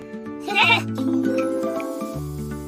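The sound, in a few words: goat bleating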